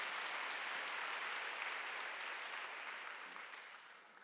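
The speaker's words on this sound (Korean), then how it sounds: "그래서 수제자 만들어준 거면 빨리 박수 주세요." Church congregation at a Wednesday worship service applauding, a steady wash of many hands clapping that holds loud and even, then gradually fades toward the end.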